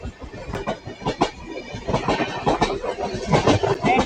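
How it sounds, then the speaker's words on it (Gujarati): A Porbandar–Rajkot passenger train runs steadily along the track between Jetalsar and Rajkot, with a continuous close rumble and a rhythmic clatter of wheels over rail joints, and no voices. "ગજબ ટ્રેક સાઉન્ડ છે"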